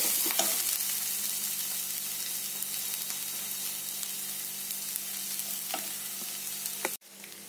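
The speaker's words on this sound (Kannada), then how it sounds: "ಈಗ ಇದಕ್ಕೆ ಕರಿಬೇವು ಕೂಡ ಹಾಕ್ತಾ ಇದ್ದೇನೆ." Curry leaves hit two spoons of hot oil in a clay mud pot while cooking coastal Karavali-style chicken sukka, giving a loud, steady, close sizzle with a few faint clicks that cuts off abruptly near the end.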